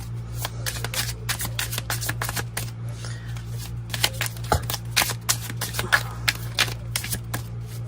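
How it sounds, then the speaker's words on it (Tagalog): Playing cards are shuffled again and again, each riffle a quick burst of crisp flicking clicks over a low electrical hum. "balasahin muna po natin itong ating baraha"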